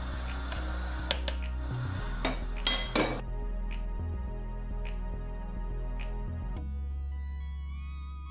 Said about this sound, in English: we're gonna move it on the back burner